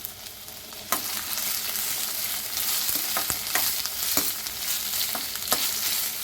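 Ginger, garlic, cinnamon, cloves, green chillies and pepper fry in hot oil with a continuous crackling sizzle, punctuated by sharp clicks and scrapes as the spices are stirred close by.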